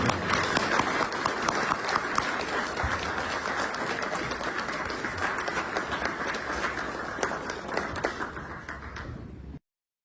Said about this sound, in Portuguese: eu gostaria de pedir uma salva de palmas ao nosso convidado